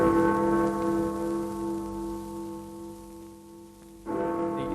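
Big Ben, the great London clock bell with its slightly flat, serious tone, rings out loud and resonant, its long humming decay fading before a second heavy strike lands near the end.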